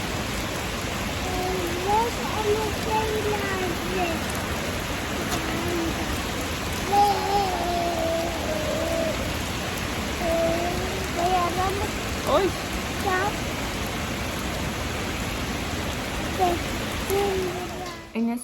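Constant heavy rain hisses throughout, with faint voices talking softly beneath the downpour.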